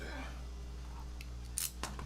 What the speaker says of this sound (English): Where are my scissors? There are my scissors.